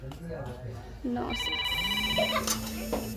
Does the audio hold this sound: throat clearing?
no